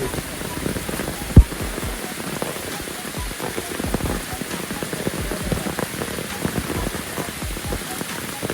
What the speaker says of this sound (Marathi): हे निसर्गाचं जे झाडावरनं पावसाचं गळून पाणी येते